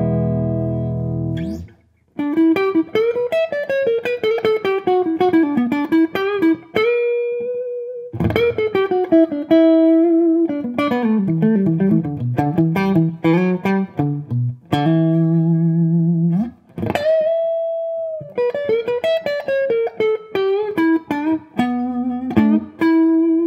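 Electric guitar played through an amp, melodic runs and sustained notes with a warm, slightly driven tone and reverb, loud and close with brief pauses.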